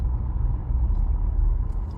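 Steady low rumble of downtown road traffic heard from inside a vehicle, a continuous engine and road drone with no voices.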